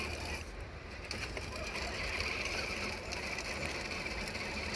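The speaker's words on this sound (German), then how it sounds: "Und bei mir verreckt bald der Motor, Hans." The worn, failing electric motor of an Axial UMG10 6x6 RC truck gives off a faint, continuous mechanical whir with a gritty, ratchet-like grinding texture, close by and without speech.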